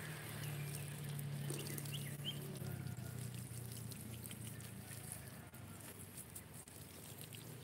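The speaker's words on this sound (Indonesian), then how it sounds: "Ini airnya saya kecilkan biar tidak terlalu besar ya, sedang." A steady, soft stream of water, turned down to medium flow, pours and trickles onto the potting soil of a plant in the ground, with a low hum underneath and faint scattered rustling.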